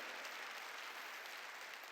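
A church congregation at a New Year's Eve worship service claps together in a steady, even wash of applause. It sounds somewhat distant and quiet and lasts only a couple of seconds.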